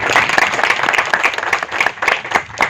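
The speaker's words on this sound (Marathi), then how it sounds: "असे साठी टाळ्या तर वाजायलाच पाहिजे" An audience applauds social workers at a felicitation ceremony, giving dense, loud clapping from many hands that pulses steadily throughout, with a faint voice beneath.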